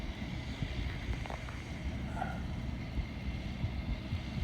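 A tractor runs a John Deere hay baler in a field, a continuous low rumbling engine drone, steady and moderately distant, with wind buffeting the microphone.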